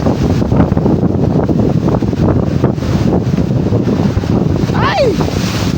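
Rough sea waves slap against a small fishing boat while strong wind buffets the microphone in a steady loud roar, with a brief whistle-like sweep near the end.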